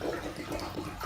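Water from a bottle pours steadily into a ceramic cat fountain, a continuous splashing trickle heard up close and on its own.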